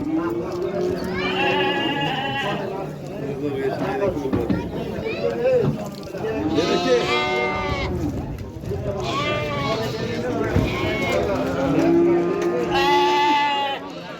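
Goats and young kids bleat repeatedly at the Shofirkon livestock market, overlapping calls near and far above a steady murmur of crowd voices.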